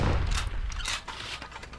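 Army Carbine gunfire in the action game Bastion: a few loud, punchy shots with low booming thuds in quick succession, set against a dense background of game sound.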